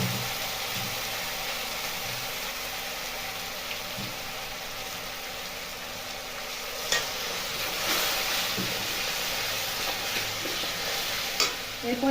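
Ground spice paste hits fried onions in a pan for Bengali prawn masala, giving a steady loud sizzle with occasional stirring scrapes and clatters throughout.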